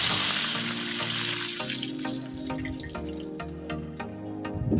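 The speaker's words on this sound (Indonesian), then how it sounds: "Apabila udah matang bumbunya, langsung aja masukkan air. Tuangkan air," Water pours into a hot wok of cooked spice paste, giving a steady hissing sizzle and rushing splash that gradually settles, with scattered drips and light clinks, close and continuous.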